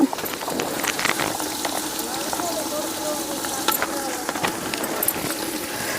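Garlic paste frying in ghee for chicken biryani in a village kitchen, a steady soft sizzle and bubbling with scattered clicks of a spoon, close and continuous throughout.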